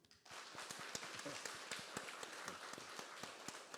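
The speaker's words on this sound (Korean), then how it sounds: "2주 동안 고생했는데 위로의 박수" A church congregation gives a round of applause during a Wednesday service, faint, scattered claps rippling irregularly through the room for a few seconds.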